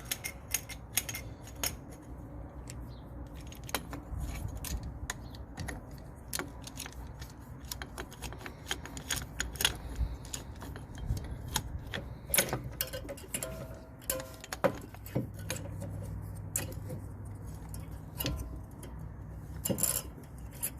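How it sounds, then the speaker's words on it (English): A tool compressing the rear brake caliper piston on a 2015 Toyota RAV4, heard as quiet, irregular metallic clicks and ticks scattered throughout, close by, with no talking. "I'm going to take the old pad and put this tool in here and compress the piston."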